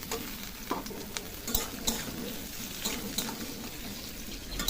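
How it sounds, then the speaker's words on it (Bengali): Potatoes and onions frying in oil in a wok, with a steady sizzle broken by several scraping stirs and soft clacks, close up with no talking. "পেঁয়াজের মধ্যে আলুগুলো দিয়ে দিলাম।"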